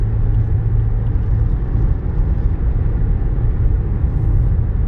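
A 2011 Nissan Rogue SV AWD with a CVT on the road, heard from the cabin as a steady, loud low rumble of engine and road noise with no break and no talk.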